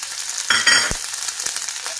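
Garlic and curry leaves sauté in a pan for a curry leaf thokku, giving a soft, close sizzle with a couple of brief stirring scrapes over about two seconds.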